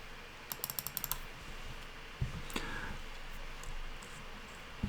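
A computer keyboard typed in a quick burst of about seven sharp clicks, then a few scattered keystrokes over a low room hum, with no talking.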